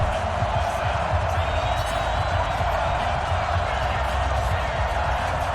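A stadium crowd roars in a steady, distant wash of cheering before a Rams versus Dolphins matchup in an EA Sports NFL game, under a commentator's voice.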